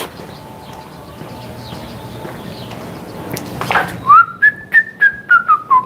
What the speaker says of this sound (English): Yeah, I know I'm whistling.